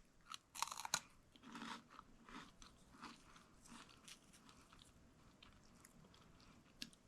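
Crisp crunching and chewing of freeze-dried fruit, loud bites up close in the first two seconds, then steadier, softer chewing continuing to the end, with no talking.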